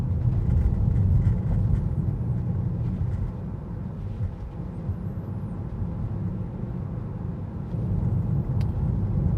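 A Tesla drives through city streets after a storm, giving a steady low rumble of road and tire noise inside the cabin, continuous and moderately loud, with no talking.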